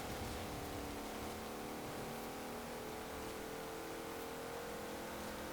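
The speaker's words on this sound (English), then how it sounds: "I do really rather like the engine." Engine of a racing car in Forza Horizon 4 holding a steady, fairly faint droning hum with a constant whine and no clear revving peaks.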